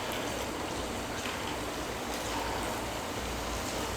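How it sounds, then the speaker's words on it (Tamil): Small balls of idli batter, mixed with rice flour and rava, dropped into hot oil as crispy bondas, giving a steady, dense sizzling hiss that runs without break. "மாவை சின்ன சின்ன உருண்டையாக எடுத்து நம்ம எண்ணெயில் போட்டு பொரிச்சு எடுத்துடலாம்."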